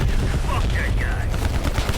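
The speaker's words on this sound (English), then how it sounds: "Keep shooting!" Dense, continuous gunfire from the video game Call of Duty Black Ops Cold War fills the mix, rapid machine-gun bursts loud and close with game effects layered in.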